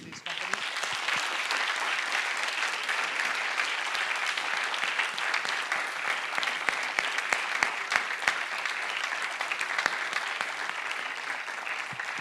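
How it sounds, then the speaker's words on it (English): A workshop audience gives a long, steady round of applause for the event's sponsoring companies, dense even clapping sustained throughout with a few sharper individual claps standing out. "I want to give a big round of applause to these companies"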